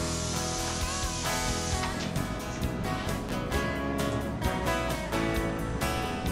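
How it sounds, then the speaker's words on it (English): A spray gun applies finish to an oak cabinet in a workshop with a steady, loud hiss of atomised spray that pulses in short bursts, and no voices are heard. "This technique of spraying the face frame I found to be the most helpful"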